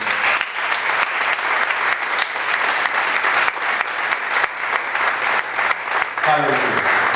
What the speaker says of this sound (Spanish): Bríndele fuerte el aplauso.